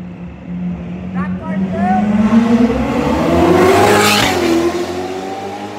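A Toyota Supra engine revs hard and climbs in pitch, holding high against the rev limiter before dropping back, loud and close, with voices chatting over it.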